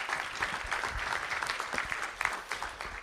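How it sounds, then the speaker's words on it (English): Steady applause from a board meeting audience honoring a champion volleyball coach, a dense wash of clapping that holds for about three seconds without pause. "Let's give Coach Tully Mitchell a round of applause."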